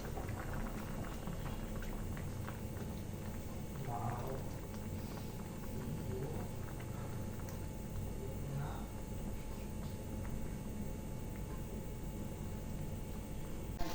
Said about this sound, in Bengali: এরপরও 3-4 মিনিট বয়েল করে নিব।